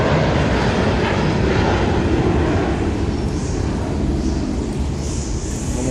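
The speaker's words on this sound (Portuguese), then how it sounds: "Privilégio, avião decolando." An airplane takes off near Santos Dumont airport in Rio de Janeiro, a broad, steady jet roar that holds loud and constant throughout, with no voices over it.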